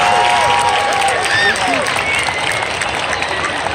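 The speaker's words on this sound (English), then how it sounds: "Let's give a round of applause for Tony Fisher." A large audience applauds at a high school football Ring of Honor induction ceremony at Euclid High School, a dense, steady roar of clapping with crowd noise and whistles throughout.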